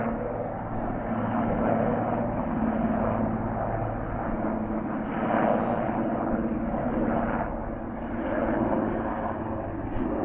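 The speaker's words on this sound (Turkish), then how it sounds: "Evet, askeri helikopter gitti." Military helicopter passing overhead outdoors, a steady rumbling engine and rotor drone at moderate distance, swelling slightly and fading, with no talk over it.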